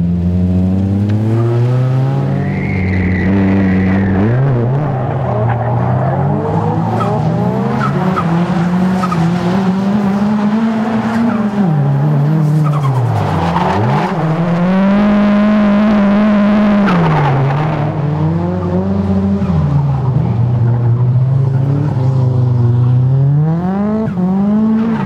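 A pink Nissan 180SX drift car at a Japanese drifting event, its engine droning loud and close with repeated rev rises and dips, overlaid by continuous tyre squeal and skidding throughout.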